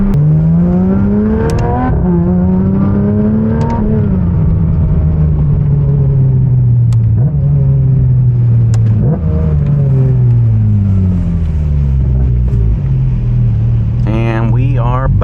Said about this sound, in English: That is what the best sounding exhaust sounds like on a 992